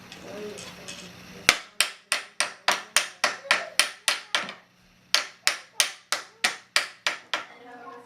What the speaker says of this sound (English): Bang on it with the hammer for a minute.